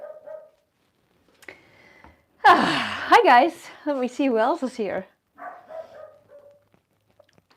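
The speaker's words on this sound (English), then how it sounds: "Shush, dog." A pet terrier barks in a short, sharp burst in the middle while a person talks over it, with more talking before and after.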